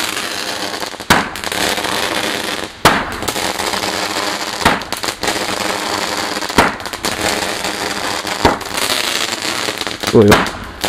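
Fireworks going off on Bonfire Night, with sharp loud bangs and crackling bursts repeating every couple of seconds over a steady hiss, while people talk nearby.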